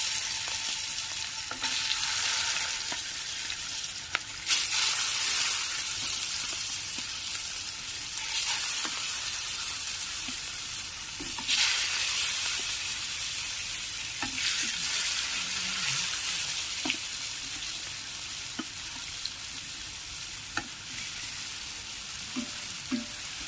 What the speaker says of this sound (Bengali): এবার মাছগুলোকে আমি দিয়ে দেবো, হালকা ভেজে নেব মাছগুলোকে।